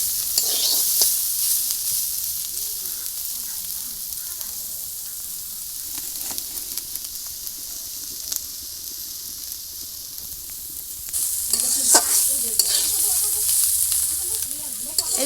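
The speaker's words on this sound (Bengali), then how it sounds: "এবারে আমি সবজিটা একটু টানায় নেব।" Vegetables stirred and fried in a pan, a steady close sizzle with scraping stirs throughout that grows louder and busier near the end.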